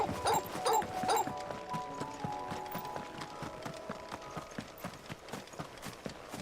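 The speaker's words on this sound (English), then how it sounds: "You want to hear a dog bark?" Three quick, loud dog barks ring out near the start in Final Fantasy XVI, followed by a steady trot of clip-clopping hooves from a chocobo mount under soft in-game music.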